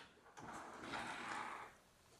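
A small drawer on a LEGO Imperial Flagship 10210 model slides with a brief soft plastic scrape, faint and close, lasting about a second.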